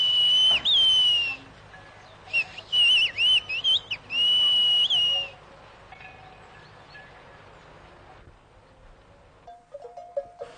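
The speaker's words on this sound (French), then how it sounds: "Je siffle avec un doigt comme ça." Loud, piercing one-finger whistles of a Pyrenean whistled language ring out in long sustained notes with swooping pitch bends, followed by a few shorter fainter whistles after a quiet stretch.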